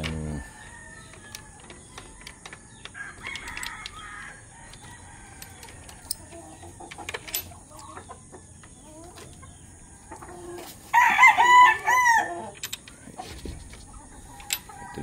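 Chickens in a backyard breeding coop cluck faintly here and there, and one loud rooster crow rises near the end over a steady hum.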